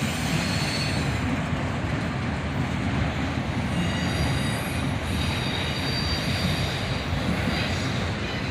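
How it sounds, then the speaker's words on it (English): A CSX Autorack freight train rolls northbound around a curve, its railcars rumbling steadily and loudly close by with a continuous grinding wheel noise and faint high squeal throughout. "Another Autorack train, this time heading northbound around the curve."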